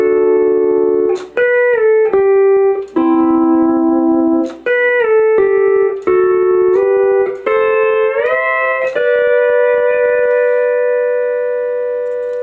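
Pedal steel guitar plays a simple melody alone, sustained sliding notes changing pitch every second or so, with glides between them and a long held final note fading out.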